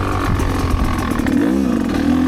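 A Rieju MRPro 300 motorcycle on a trail loop, its engine running close and steady with a rising rev and dropping pitch near the end of a short burst.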